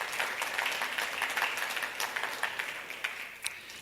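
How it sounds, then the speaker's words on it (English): Audience applause at an options industry conference, a steady wash of many hands clapping that holds evenly throughout and fades slightly toward the end, with no talking. "Let's give them a round of applause."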